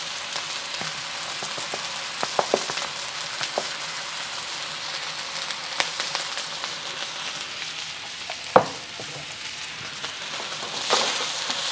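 Hong Kong style beef fried rice with soy sauce and oyster sauce sizzles steadily in a hot pan, a soft continuous crackle with scattered pops and a sharp spatter burst near the end, no talking.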